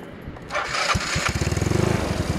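A 200cc motorcycle engine, fitted with a head swapped from a 180cc unit, cranks over and catches on a single press, settling into a loud, steady, rapid putter close by.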